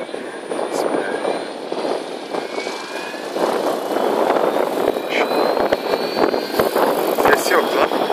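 A Goblin 700 RC helicopter flies nearby, its tail rotor and motor producing a steady high whine over a broad whooshing rotor drone, with people talking faintly underneath.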